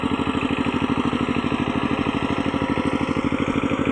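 A tractor dragging a banana-trunk leveller through a field: a close, loud, steady chugging engine with an even pulsing beat and a faint clatter, running without pause.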